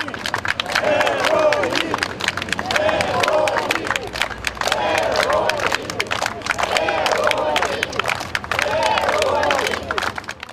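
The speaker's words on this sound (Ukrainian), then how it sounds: "Їх оплесками зустрічали на центральній площі" A crowd on the central square of Kamianske, an industrial city, applauds arriving soldiers of the Karpatska Sich volunteer unit, with steady clapping, cheering and babble in repeated swells for about ten seconds.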